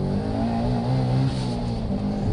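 Subaru EJ20 2-litre engine car accelerating hard on a mountain touge course, a loud, steady, close engine note climbing in pitch over a couple of seconds, with no talk over it.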